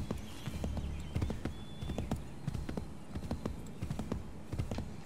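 Horse hoofbeats from riding in Assassin's Creed 3, a steady run of close clip-clop steps at moderate loudness, with a brief high tone and no speech.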